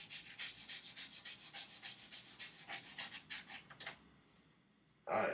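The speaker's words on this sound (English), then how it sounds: "I used to use sandpaper like this all the time" Hand sanding of a wooden wand tip with sandpaper: about twenty quick, steady back-and-forth rubbing strokes, close and fairly loud, stopping near the four-second mark before a brief louder noise at the end.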